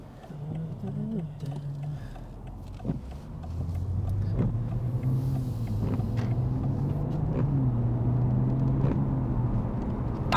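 BMW 540i with its exhaust valves closed, heard from inside while driving: a steady, subdued low engine drone that swells slightly after a few seconds and then holds.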